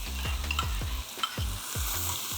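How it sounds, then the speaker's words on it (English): Miso paste mixture stirred into mushrooms and garlic frying in a pan, giving a steady sizzle with rhythmic scraping stirs, close and clear. "I'm going to now go in with my miso paste mixture."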